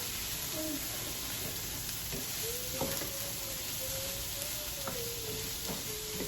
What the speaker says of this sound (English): I threw a little bit of extra virgin olive oil on the bottom, just so it doesn't burn.